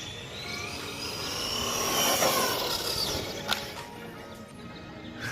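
A Hobby Plus Ravage 10MT RC monster truck's brushless motor whines at full throttle, its pitch sweeping and swelling to a peak midway before easing, over a rough rushing noise from the wheels on the ground.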